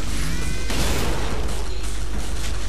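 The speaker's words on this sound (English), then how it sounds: "Explosion!" A loud, dense roar of noise like an explosion in the video game Killing Floor, with a sudden burst partway through, sustained and heavily saturated.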